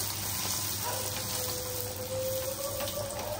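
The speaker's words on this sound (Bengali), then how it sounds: "এক হাতে ভাজছি।" Food fries in smoking-hot oil in a pan, giving a steady, close, even hiss with no talk.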